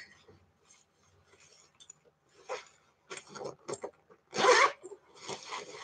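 A zipper on the back pocket of a whip-stitched WANLU handbag, heard as several short rasping pulls growing louder toward the end, close up with no talk.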